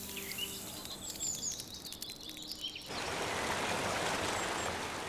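An icy-cold mountain stream rushes steadily. At first it is softer, with birds chirping and calling over it; then it turns to a loud, close, continuous wash of flowing water.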